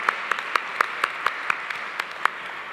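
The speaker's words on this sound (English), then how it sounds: "Please give them a warm applause" Conference audience applause at an international food security conference, a sparse, fairly close round of evenly spaced claps, about ten distinct hand claps in quick succession over a quiet background.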